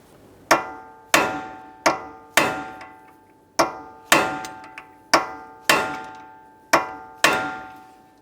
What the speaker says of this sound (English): We're going to use a hammer and punch and drive this nut down into that slot